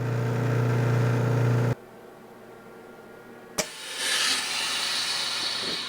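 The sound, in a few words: chamber vacuum sealer pulling vacuum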